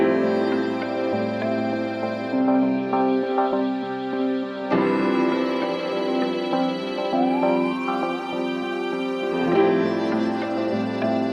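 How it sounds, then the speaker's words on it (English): Violin playing in the outro of a song, with sustained singing lines and a few sliding notes over a full, steady musical backing, loud and continuous. "what I can play is this violin that I have that is in the outro of the song"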